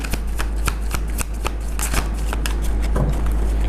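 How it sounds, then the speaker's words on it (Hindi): A deck of tarot cards being shuffled close up, a quick riffling flutter of card slaps in steady rapid succession, loud and alone. "Last shuffle."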